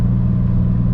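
BMW E30 fitted with a swapped M50 inline-six pulling hard from inside the cabin, a loud, steady low engine drone with road rumble and no voices.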